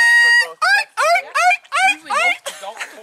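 A toy squawks in imitation of seagull calls, about six loud, close, rising cries in a quick series, each sharp and nasal, filling the clip alone.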